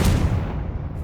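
A Confringo fire spell cast in Hogwarts Legacy, one short, heavy booming blast that fades quickly, loud and close.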